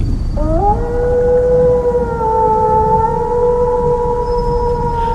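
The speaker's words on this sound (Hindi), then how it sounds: "अचानक बांस के जंगल के अंदर लोमड़ियां हू हू करती हुई आवाज करने लगी" A long rising howl in a bamboo forest, like foxes howling at night for a horror story effect, a steady eerie tone held loud and alone for several seconds.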